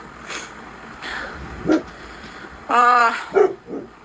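A dog barks a few times at moderate distance in a quiet indoor space, with one longer, fuller bark standing out against low background hum.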